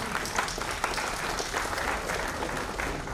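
Steady applause from an audience at a seminar on stock-market trading strategy, a dense continuous clapping that holds at an even level throughout.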